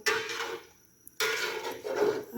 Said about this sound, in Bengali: এখন ঢেকে দেবো